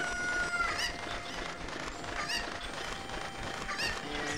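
Cuccos in the video game Zelda: Ocarina of Time cluck and squawk repeatedly over busy game background sound, the bird calls popping up every second or so at moderate loudness.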